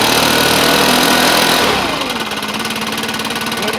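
A Stihl BR 600 backpack blower engine roars loudly at close range, then drops abruptly into a rapid, pulsing idle putter that continues steadily, with no talking.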